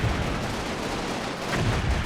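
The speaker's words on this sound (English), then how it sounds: "Tons of firepower going back and forth here." Gunfire exchanged in the WWII strategy game Combat Mission Final Blitzkrieg, with a Sherman tank and German squads carrying machine guns: a dense, steady wash of distant shots and rumbling artillery that runs continuously with no voices.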